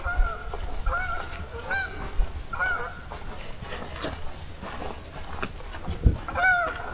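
Geese honk overhead in scattered calls, several bursts spread across the clip over a steady outdoor background, moderately distant, along a trail in Valentine, Nebraska.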